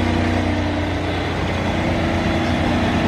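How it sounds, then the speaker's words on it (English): The Mercedes-AMG Project One's Formula One engine idles through its triple exhaust tip, a coarse, steady drone with a heavy low rumble and a rough mid-range rasp. It stays loud and close and keeps going without a break, and no one speaks. "at idle, the exhaust on this does not sound very good"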